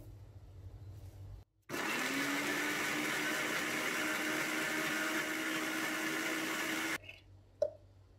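A kitchen grinder whirs loudly for about five seconds, blending roasted sesame seeds with olive oil into paste for Lebanese hummus, starting and stopping abruptly with quiet room sound before and after.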